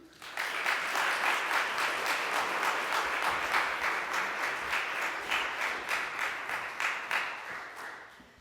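An evening lecture audience greets the guest speaker with warm, steady applause, many hands clapping together for several seconds before the sound gradually thins out at the end.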